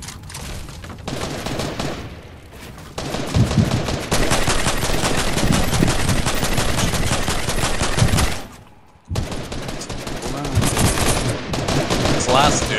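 Heavy automatic gunfire in Fortnite, long loud rapid-fire bursts that run for several seconds at a time, broken by two short pauses, close and dominant with a little talk underneath.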